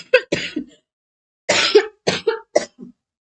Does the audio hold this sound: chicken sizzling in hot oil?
no